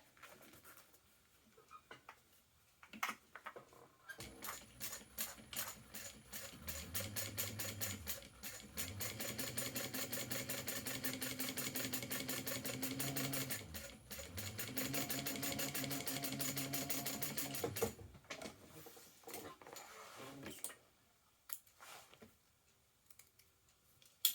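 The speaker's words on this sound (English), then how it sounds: "We're going to top stitch along there, 1/8 of an inch along that side." Sewing machine top stitching along the edge of fabric: a steady fast whirring stitch run of several seconds, a brief pause, then another sustained run, close up with light handling clicks before and after.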